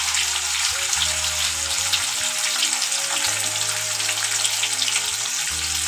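Peas stirred and fried in a pan while cooking bottle gourd greens with mustard, giving a steady close sizzle with soft scraping throughout and no talk.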